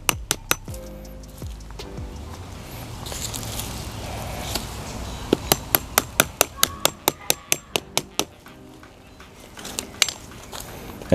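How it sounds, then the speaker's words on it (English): Spike for no-dig landscape border edging driven into the ground with a hammer: a rapid run of about a dozen sharp, ringing metallic strikes, plus a few scattered earlier knocks, close by over quiet outdoor rustling. "And I'm just going to hammer in just like that."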